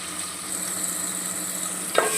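Tomatoes and onion sizzle steadily in a hot pan, a close, even frying hiss with a brief stir near the end.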